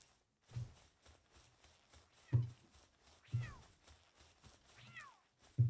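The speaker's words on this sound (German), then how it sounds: "Noch ein paar Kätzchen." Kitten-like creatures in the video game Palworld meow in short, faint rising cries several times. Soft footsteps and game ambience run underneath.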